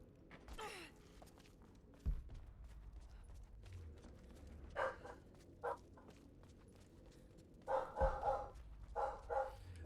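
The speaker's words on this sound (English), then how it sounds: "I apologize for my sister's dog." A dog barks indoors in several sharp bursts, two isolated at first and then a quicker cluster of barks near the end, set against a low steady hum.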